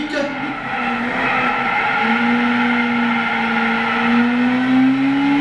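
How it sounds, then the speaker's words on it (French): Honda Civic lapping the Brands Hatch Indy circuit in the video game Gran Turismo 6, its engine holding a loud, high, steady drone that climbs gently in pitch, with tire noise and no talking. "Maintenant on va faire un tour complet de Jola Motorsport sur l'Honda Civic."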